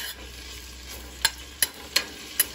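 Garlic and ginger fry in oil for an okra dish, giving a soft steady sizzle broken by four sharp, evenly spaced spoon scrapes against the pan.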